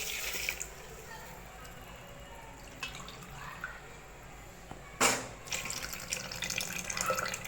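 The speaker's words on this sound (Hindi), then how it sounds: "ये मैंने इसमें मिल्क डाल दिया।" Milk being poured into an Oreo milkshake mixture makes a soft liquid pour and splash, faint and close, with a brief louder gush midway over low kitchen background.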